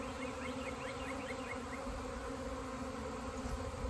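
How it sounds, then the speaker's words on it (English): A swarm of honey bees flies around close by during a swarm hiving, a dense, steady buzzing drone with higher whining passes, continuous and loud throughout with no talking. "It's just it's a tornado of bees"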